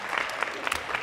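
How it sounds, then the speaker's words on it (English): Brief audience applause at a presentation, a faint, distant patter of many hands clapping with no talk over it. "One more round of applause."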